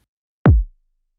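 A single punchy kick drum processed with the Knock plugin thumps once, loud and close, with a bright attack and short low tail, surrounded by silence.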